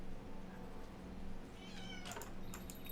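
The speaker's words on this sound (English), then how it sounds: "What are you meowing about?" A cat meows once, a drawn-out wavering cry near the end, over a quiet background hum.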